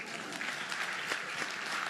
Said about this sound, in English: Let's give him a big round of applause, a big round of applause.